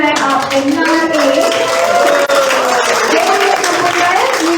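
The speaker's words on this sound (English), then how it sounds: "give applause to Miss Hidayah" An audience at a self-development event claps to honour a woman's promotion, with loud, close hand clapping running throughout, mixed with cheering voices and chatter.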